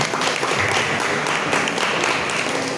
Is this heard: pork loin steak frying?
no